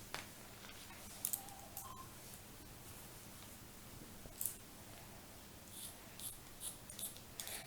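Scissors cutting a piece of green fabric for homemade toy horse accessories give faint, sparse snips and soft rustles scattered over a quiet, steady background, heard up close.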